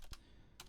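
A computer keyboard tapped in two quick, faint bursts of keystrokes close by, with a short pause between them and no voices.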